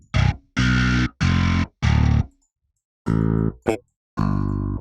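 Stock Euro bass plugin sound with a mixed distortion tone, heard as loud, gritty sustained bass notes in short separated bursts with gaps of silence between them.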